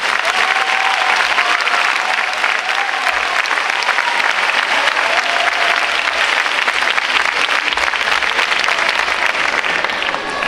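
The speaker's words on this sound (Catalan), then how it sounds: "Us agrairíem un fort aplaudiment per a totes elles." A large audience at a school Christmas concert gives loud, sustained applause, a thick continuous patter of many hands clapping at close range for the full length.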